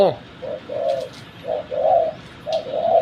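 Soft, low coos of a spotted dove repeat in short rhythmic phrases, fairly close, with faint background noise and no talking.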